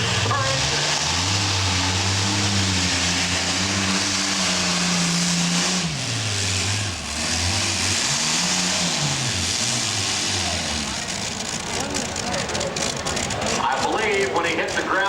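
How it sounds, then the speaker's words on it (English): Modified pulling tractor with two Allison aircraft engines of 1,710 cubic inches each, at an NTPA pull in Tomah, Wisconsin: a loud roaring engine whose pitch rises and falls, with commentary and crowd noise over it. "simply because it has two Allison aircraft engines"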